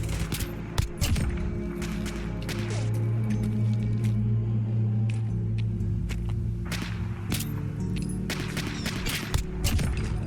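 M1911 pistols firing .45 ACP in a firefight with Gunners in the video game Fallout 4, sharp scattered shots and cracks spread irregularly over a steady background hum.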